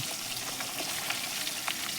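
Fish pieces fry in hot oil and are turned from side to side, producing a dense, even sizzle that holds steady throughout, with small pops and a soft scrape or two.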